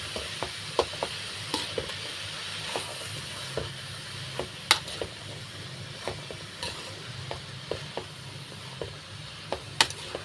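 Fried field beans with jackfruit, salt and sambar powder are stirred in a pan, giving a quiet background sizzle broken by irregular sharp scrapes and taps of the spoon against the pan, close and with no voices.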